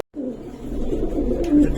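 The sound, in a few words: pigeons cooing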